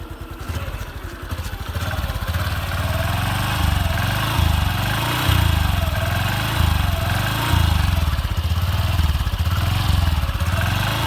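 A Honda Wave 110i motorcycle engine runs close up with a steady, smooth mid-pitched drone and slight rises in revs, continuous with no other sounds over it.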